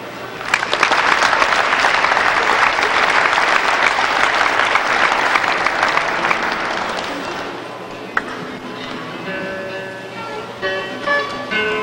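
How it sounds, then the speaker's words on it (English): At a state FFA leadership conference session, an audience breaks into loud, dense applause that holds for several seconds, then fades out, leaving a quieter hall with a faint tone and some soft movement. "I'd like you to join me in applause"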